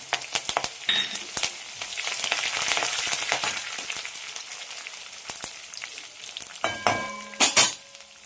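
Four hot green chillies fry in oil in a pan, making a close sizzle with crackling pops and a few louder spattering bursts toward the end.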